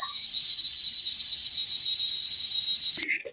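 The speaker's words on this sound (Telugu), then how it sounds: "స్టవ్ మీద పెట్టుకొని పాలు ఆన్ చేసుకున్న రెండు నిమిషాలే విజిల్ రావడం అనేది స్టార్ట్ అయిపోయింది" A milk cooker on a stove gives a steady, loud, high-pitched whistle for about three seconds and then cuts off sharply, with no voices.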